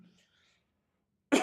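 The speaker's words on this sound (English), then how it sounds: "Sorry, guys, I got a little bit of a cough today" A single short, sharp cough close to the microphone comes right after a moment of near silence.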